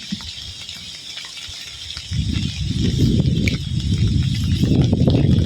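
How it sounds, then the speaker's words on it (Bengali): Heavy rain with strong wind in a village setting, a dense rushing roar that thickens partway through and stays loud and steady, with no talk. "ঝুড়ি ঝুড়ি বৃষ্টি কিন্তু বৃষ্টি শুরু হয়েছে সাথে আছে বাতাস"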